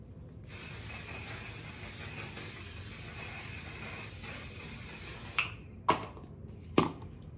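A long, steady aerosol makeup setting spray hisses close up for several seconds, then stops, followed by a few sharp clicks and taps.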